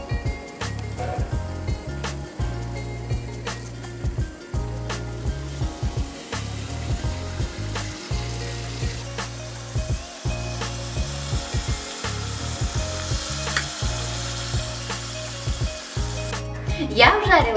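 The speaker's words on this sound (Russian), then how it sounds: "Жарим в следующей партии." Pieces of dough for bird's tongue cookies sizzle and crackle in hot oil, a steady frying hiss joined by repeated rhythmic scraping and clatter nearby.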